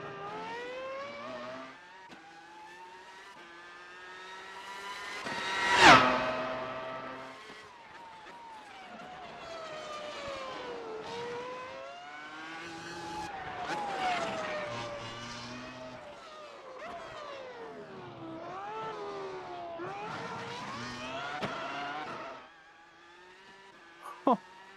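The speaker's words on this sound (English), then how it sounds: "unmistakable V10 scream. Just really sounds like a Formula One car." IR-18 V10 race car in the iRacing game screams through repeated high-pitched revs, rising and falling with gear changes and corners, with a sharp tire squeal and a louder peak partway, alone and steady throughout.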